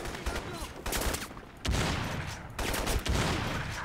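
Rapid volleys of shotgun and gunfire in the video game Crysis, several loud bursts in quick succession with brief gaps, close and harsh, with a voice briefly under the shots.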